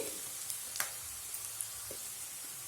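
Peanuts fry in hot oil in a pan, giving a faint, continuous sizzling hiss dotted with a few soft pops and crackles.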